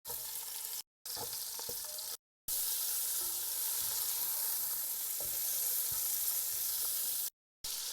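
Onion and bell pepper fry over high heat in a pan while being stirred, giving a steady, close hiss of sizzling with faint scraping, interrupted by brief silent gaps.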